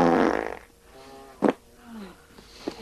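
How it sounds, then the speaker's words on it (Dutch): A cartoon fart sound effect blares loudly at the start as a long buzzing, flapping burst, followed by a quieter, lower sputter and a few short squeaky bursts. "De pastoor moet het hele dorp nog controleren op schadelijke scheten."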